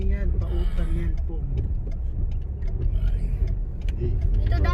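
Road traffic in Bicol, Philippines, with a truck and a jeep passing: a loud, close engine rumble and swelling road noise, heard under people talking.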